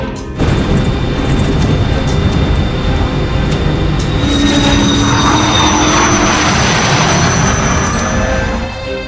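Loud, steady roar of an aircraft engine running continuously, with a rising whine and broadband rumble that swells slightly midway.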